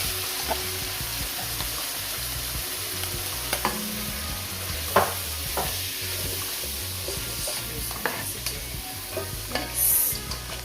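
Vegetables cooking in a pot with green seasoning for Jamaican vegetable rice, a steady moderate sizzle with a low rumbling bubble underneath and scattered clinks of a spoon against the pot.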